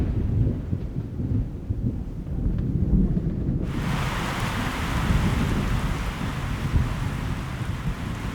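Heavy tropical rain hisses down in the mid-Pacific equatorial belt where trade winds meet, with deep rolling thunder rumbling underneath; partway through, the downpour swells noticeably louder and denser.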